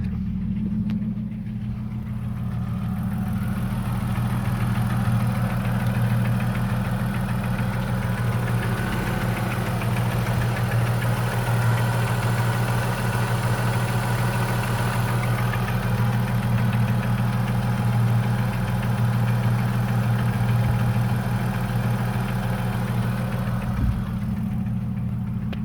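A Holden VS Commodore engine idles steadily for the whole stretch with a close, continuous low rumble and a light rhythmic ticking over it, no voices.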